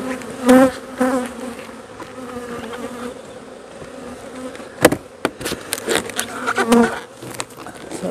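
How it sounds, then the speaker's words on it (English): Honey bees buzzing around hive frames while honey supers are harvested, a close, dense hum with louder swells and sharp knocks as the frames are shaken. "Sometimes just a good shake on these frames will be enough to get those bees off, get them going."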